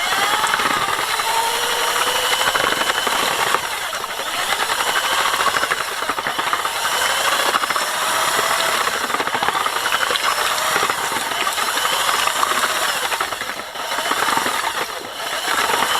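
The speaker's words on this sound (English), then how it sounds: "We have a little whisker on the drill for this stuff." A power drill fitted with a mixing whisk runs continuously with a steady whirring hiss as it churns thick lime, with no talking.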